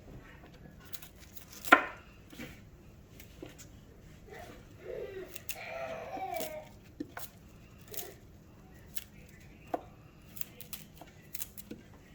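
Knife chopping broccoli into small stir-fry pieces on a cutting board, with scattered sharp taps and cuts spread irregularly over quiet background and some soft speech in between.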